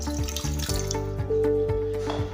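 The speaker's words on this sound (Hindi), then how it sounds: "कुकर ले लिया और यहाँ पर 1 गिलास पानी का मैं ऐड करूँगी तकरीबन" Water pouring and splashing into a metal pressure cooker in short gushes, close and fairly loud, with faint clinks.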